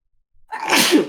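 A single sharp sneeze close to the microphone, a quick intake followed by a loud burst.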